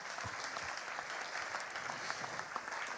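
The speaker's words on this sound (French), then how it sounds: "On les applaudit, voilà, dignement." An audience applauds continuously, a soft, distant wash of clapping hands that holds steady throughout.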